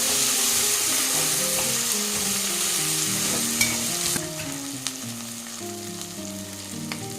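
Spices and fresh coriander leaves fry in a pan for kushka rice, a steady close sizzle with a spoon stirring and occasionally knocking against the pan.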